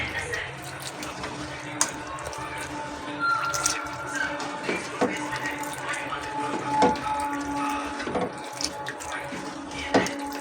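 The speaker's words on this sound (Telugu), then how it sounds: "తగినన్ని నీళ్ళు పోసుకున్నాం పులుపు చూసుకొని నీళ్ళు పోసుకోవాలి ఇప్పుడు బాగా పిసుక్కుందాం" Tamarind is squeezed by hand in a pot of water for a tomato-tamarind rasam, giving soft wet squelches and dripping splashes at close range, with someone talking over the squishing.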